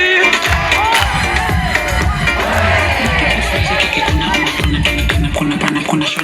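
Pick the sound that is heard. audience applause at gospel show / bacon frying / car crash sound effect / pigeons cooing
audience applause at gospel show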